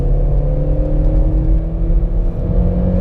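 A 2017 VW Polo Mk5 engine pulls hard under acceleration toward high revs, a steady loud droning roar with layered engine tones and no voices over it.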